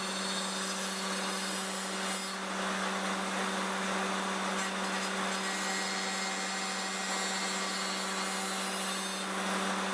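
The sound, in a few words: Rex-Cut cotton fiber Type 1 wheel deburring pipe thread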